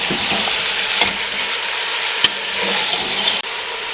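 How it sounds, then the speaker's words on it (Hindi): Green chilli with ginger garlic paste frying steadily in a pan, a continuous loud sizzle with faint stirring clinks throughout, no voices. "अदरक और लहसुन का पेस्ट डाल देंगे। बिस्मिल्लाहिर्रहमानिर्रहीम। अब इसको हम 2 से 3 मिनट के लिए फ्राई करेंगे।"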